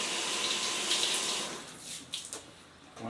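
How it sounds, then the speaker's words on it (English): A fine-nozzle watering can sprays a gentle stream of water over garden seedlings, a steady broadband hiss of flow that eases off and turns patchier toward the end. "So I have some water here, and I have this really fine nozzle."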